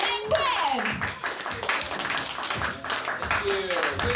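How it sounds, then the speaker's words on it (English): Audience clapping and cheering for a comedian at a comedy open mic, lively claps mixed with whoops and voices, loud and close throughout. "Clap your cute little paws together for Drennan Quinn."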